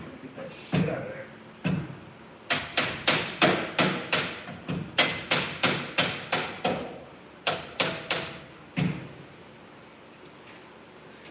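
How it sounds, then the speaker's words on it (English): Hammer strikes knocking a broken board back and forth in a shop, a long run of sharp, evenly paced blows, loud and close, with a few scattered knocks before and after. "just hammering it back and forth is the best"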